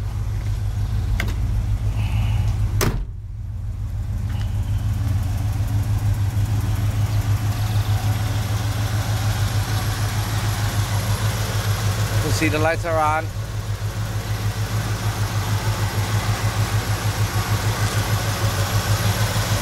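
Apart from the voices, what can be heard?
1970 Chevelle SS 454 engine idling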